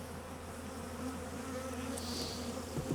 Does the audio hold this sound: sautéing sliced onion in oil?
no